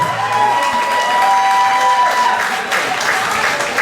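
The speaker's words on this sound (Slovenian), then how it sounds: "velik aplauz za Zvoneta Taškoviča, njegovi navijači, zaploskajte mu." An audience at an outdoor grilling competition event in Ihan applauds steadily, a loud, sustained wash of clapping with light cheering.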